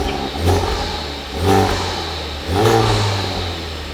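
A 2023 Honda Civic Type R fitted with a downpipe revs nearby in three short blips, each engine swell rising and falling about a second apart over a steady idle.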